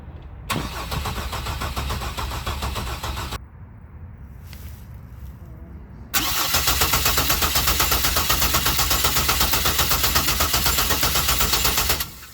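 A 1967 Checker Marathon fitted with a swapped-in Vortec 4200 engine cranks over on its starter in two long, loud, close bursts of rhythmic churning. A short quieter gap separates them, and no voices are heard.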